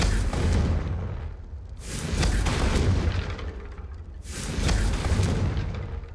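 Confringo explosion spell in Hogwarts Legacy, three deep rumbling booms roughly two seconds apart, each swelling and fading into a low roar, loud and close with no talking.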